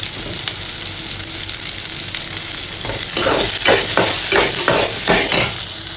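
Finely chopped small onions fry with mustard seeds and urad dal for a soya chunks curry, a loud steady sizzle with a string of scraping stirs toward the end and no speech.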